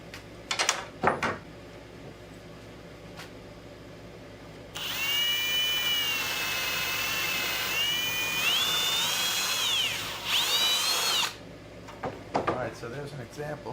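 A power drill wallows out mortise holes in the breadboard end of a farmhouse table in one sustained run of about six seconds, its whine dipping and rising under load, with knocks and handling noises before and after.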